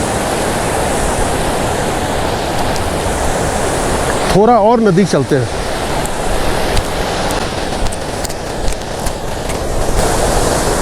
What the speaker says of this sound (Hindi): तो ये बसपा नदी का फ्लो है